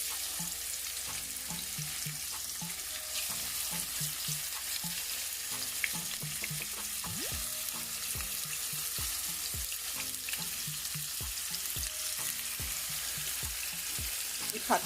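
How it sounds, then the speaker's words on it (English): Salmon pieces pan-frying in hot oil, a steady close sizzle with occasional soft stirring and scraping sounds, no talk. "I'm gonna fry up these, and I'm gonna put it on this side first."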